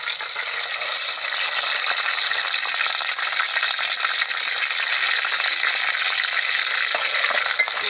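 Curry leaves with ginger-garlic-onion paste frying in oil for a country chicken curry over a wood-fired stove, giving a steady, loud, continuous crackling sizzle throughout with no voices.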